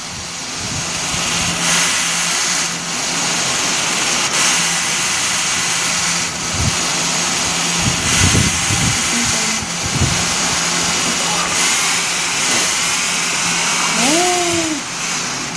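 Car engine in a roleplay driving video game, a steady mid-pitched drone with revving swells throughout, loud and continuous with no talk over it.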